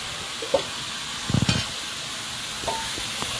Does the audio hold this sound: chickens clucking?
no